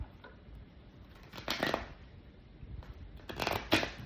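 A tarot deck being shuffled and cut, two short bursts of riffling card flutter close up, separated by quiet handling.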